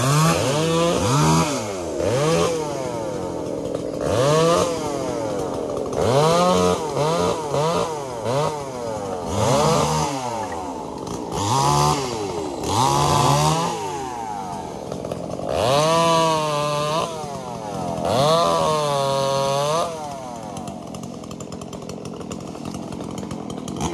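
Chainsaw cutting the base of a tall eucalyptus trunk in the rain, repeated revving bursts rising and falling as the engine bogs into the wood, close and loud.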